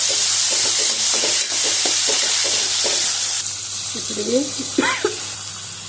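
Tomatoes and turmeric fry in a pan for a potato-tomato curry, giving a loud, close, continuous sizzle as they are stirred, with a voice briefly speaking over it near the end.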